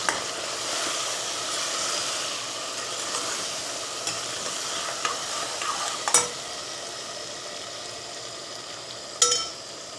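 Spices and turmeric frying for a soya biryani give a steady close sizzle, with the scrape of stirring and a couple of sharp clinks of the spoon against the pan.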